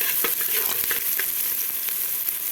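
Onions frying in plenty of ghee in a cooking pot give a steady, close sizzle with occasional sharper crackles and spoon scrapes, unbroken and without any talk.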